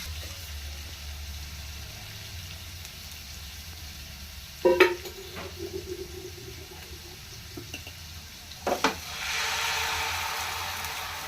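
Onions frying in a pan for Bombay chutney give a faint, steady sizzle beneath kitchen clatter, with a couple of sharp utensil knocks and a louder hiss of frying toward the end.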